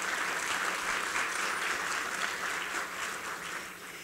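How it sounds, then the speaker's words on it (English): An audience at a university event on mass incarceration claps in sustained applause that holds steady for about four seconds, then slowly fades toward the end. Full and even, with no voices over it. "So join me in giving them a round of applause."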